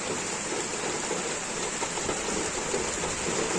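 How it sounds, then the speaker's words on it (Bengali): Rain pours down behind a house, a dense, even wash of noise that stays steady and fairly loud, with no voices. "দেখো বৃষ্টি নেমে পড়েছে দেখো"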